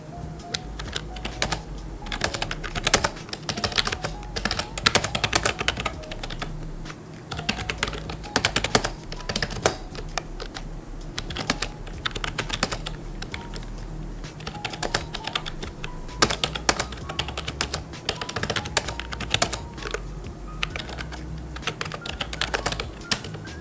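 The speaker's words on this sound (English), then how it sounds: "I'm going to do a typing test on this keyboard right now." Continuous typing on a Redragon S101-3 gaming keyboard, a steady run of sharp, close key clicks and clacks for over twenty seconds with no talking.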